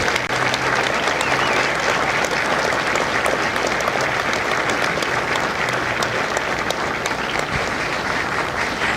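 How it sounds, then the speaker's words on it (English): Sustained audience applause at a Marine Corps recruit graduation ceremony at MCRD San Diego, a dense, steady clapping from a large crowd that fills the whole stretch without letting up. "Ladies and gentlemen, a round of applause for their dedicated service to corps and country."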